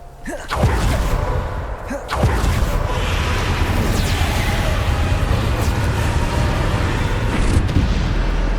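Bombarda spell blasts from Hogwarts Legacy go off in a loud booming burst, then a dense, roaring rumble of combat noise sustains throughout with a few sharp impacts scattered on top.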